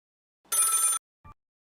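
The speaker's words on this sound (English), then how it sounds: "The man was cut off by his phone ringing. It had one of those bell rings." A telephone with an old-style bell ring gives one short, bright metallic burst, followed by a couple of faint low knocks in an otherwise quiet room.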